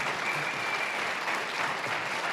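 Steady applause from an audience at a Senate candidate forum, a short round of clapping honoring the campaign candidates, even and moderately loud throughout.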